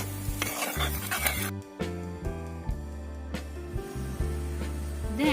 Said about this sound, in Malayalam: എണ്ണയില്ലാതാണ് ഈ കടുക് പൊട്ടി